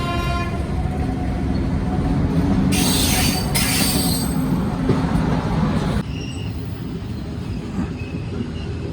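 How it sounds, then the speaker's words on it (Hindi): The Gurumukhi Superfast Express departs from platform 2 with a loud steady rumble of wheels on rails, bursts of high squeal midway, and a sudden drop in noise near the end. "2 नंबर प्लेटफॉर्म से डिपार्चर होती हुई"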